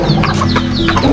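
Chickens clucking at a backyard poultry yard, a steady mix of overlapping clucks and short calls, fairly close and loud, with no talking.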